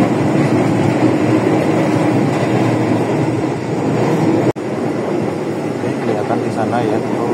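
Lodaya passenger train running at about 110 km/h, heard from inside the cabin as a steady loud rumble and rail roar with a brief dropout midway; a voice talks faintly underneath.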